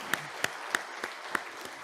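A church congregation claps during a Sunday worship service, the claps landing in a slow, even rhythm of about six distinct beats, fairly soft and somewhat distant.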